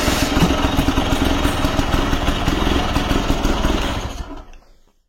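A motorcycle-like engine idles loudly and steadily with a rough, clattering putter up close, then cuts off and falls silent at the end.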